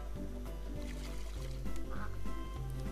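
Geese honk and quack repeatedly in the farm video game Farm Mania 2, a steady, synthetic-sounding chorus over a constant low hum, close and fairly loud.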